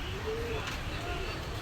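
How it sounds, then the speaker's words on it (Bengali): Pigeons at a Bengali pigeon seller's stall coo faintly in a single soft, drawn-out call within a noisy room, under a low background hum. "দর্শক এই আর এক পেয়ার কবুতর আছে, খুব সুন্দর কবুতর"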